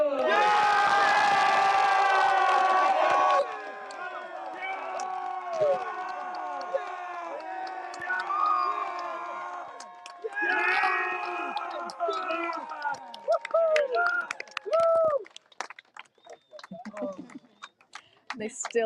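A crowd cheers, whoops and shouts at the finish of a transatlantic rowing race, loud and lively at first, then thinning into scattered shouts and voices over the remaining seconds.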